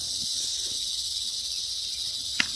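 A snake in an Arizona Trail tunnel at night gives a steady, high-pitched buzzing rattle, continuous and fairly loud, with a faint click near the end.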